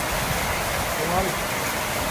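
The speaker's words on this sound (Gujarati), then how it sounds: "કેટલો વરસાદ એ પવન સાથે" Heavy rain driven by strong wind during a mini storm at Pipalva in Gir, a dense continuous hiss of downpour and gusts that fills the whole moment evenly.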